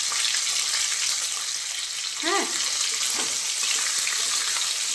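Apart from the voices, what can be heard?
fish head frying in oil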